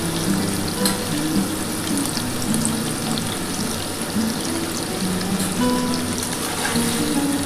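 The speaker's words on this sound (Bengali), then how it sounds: "পনিরটা ভেজে তোলা হয়ে গেলে তারপরে আমি কিন্তু আলুটা দেবো।" Paneer frying lightly in oil, a dense, even crackle and fizz at steady moderate loudness throughout, with no voices.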